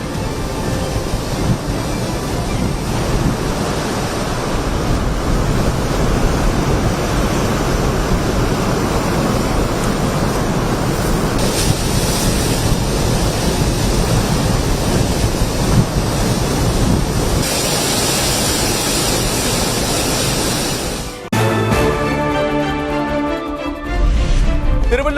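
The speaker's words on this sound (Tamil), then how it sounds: "புயலால் புதுச்சேரியில் கடல் சீற்றம். சூறைக்காற்றால் ஆக்ரோஷத்துடன் சீரிய அலைகள்." Rough storm surf pounds the shore at Puducherry under gusting cyclone wind, a loud continuous roar of breaking waves and wind buffeting the microphone, with no voices and a brief shift in the roar near the end.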